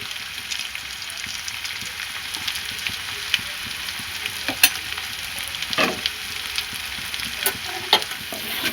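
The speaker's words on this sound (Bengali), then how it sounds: "ভাজা মশলার সঙ্গে আলু ভালো করে কষিয়ে নেব।" Fried potatoes sautéed with roasted spice mix and a little water in a pan give a steady soft sizzle with occasional sharp clicks and scrapes of stirring, close up and without talk.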